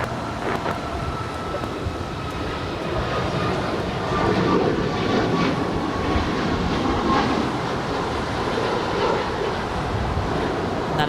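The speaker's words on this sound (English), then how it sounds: "That is United 552 off to Denver on a 737 MAX 9, delivered in June of this year." A United Boeing 737 MAX 9 jet taking off from Los Angeles International Airport, heard from a distance as a continuous broad roar that swells slightly midway and holds steady, with no voices.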